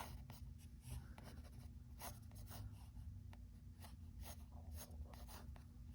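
A pencil sketches on paper in quick scratchy strokes and rubs, close and quiet, with short bursts and brief pauses between lines and nobody talking.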